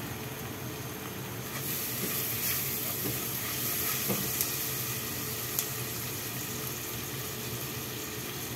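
Onion and garlic sizzle in a pan, a soft, steady frying hiss that continues throughout with a few faint clinks.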